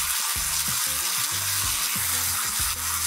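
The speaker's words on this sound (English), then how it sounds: "our peaches are charring nicely now" Peaches glazed with orange zest and honey sizzle steadily on a grill, a continuous close crackle with no one talking.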